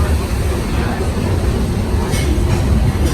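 A steady rumbling of a Disney World ride train rolling along the rails, with faint clacking and a constant low roar throughout.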